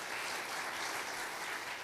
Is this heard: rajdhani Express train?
no